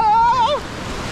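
Sea surf washing onto the beach at Puri in cold, breezy weather, a steady broadband wash with wind across the microphone; a brief sliding voiced tone rises over it at the start before the surf carries on alone.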